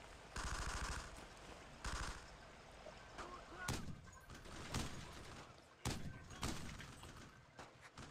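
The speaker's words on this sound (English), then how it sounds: "now I'm shooting all sloppy" Bursts of rifle and machine-gun fire from the World War II shooter Brothers in Arms: Road to Hill 30 on original Xbox hardware, several sharp volleys and single cracks, loud and close with a few quieter shots between.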